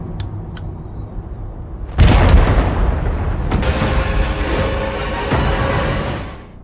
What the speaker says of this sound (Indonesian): dia langsung meledakkan bom yang membuat terjadinya longsor salju